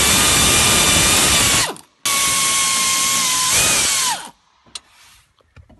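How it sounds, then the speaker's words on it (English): Ratchet clicking steadily as screws come out of the instrument panel of a Chevrolet Silverado during clutch pedal assembly work, a loud close continuous run, a short pause, another long run, then a few faint clicks trailing off. "Now remove the four upper instrument panel retaining screws located on the firewall side of the instrument"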